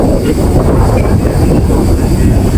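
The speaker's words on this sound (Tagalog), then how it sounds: "Sobrang hangin." Steady, loud wind roar buffeting the microphone outdoors on Hudayriyat public beach, blowing sand, a constant low rumble with no pauses.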